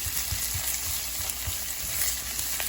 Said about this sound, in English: you want to make sure you saute that around a little bit.